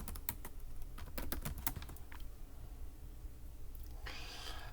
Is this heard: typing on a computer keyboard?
yes